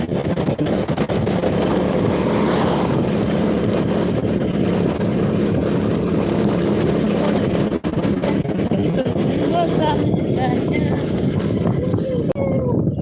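Riding a small motorcycle brings a constant roar of wind buffeting the microphone over a low engine rumble, steady throughout, while someone talks over it.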